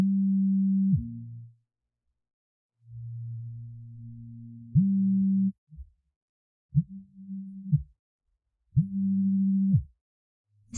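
A telephone line plays a series of steady electronic tones in separate bursts with pauses between them, fairly quiet and alone.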